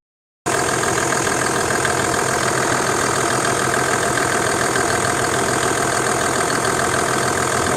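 A Toyota Land Cruiser engine with an A750F automatic transmission starts abruptly and runs in a loud, steady, even drone close by, with no voices over it.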